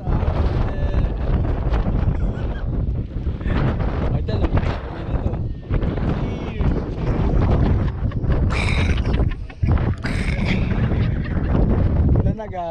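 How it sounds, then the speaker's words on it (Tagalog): Strong wind gusting across a lagoon while fishing, steady broadband roar buffeting the microphone throughout, with people talking over it. "Lakas na lang hangin guys"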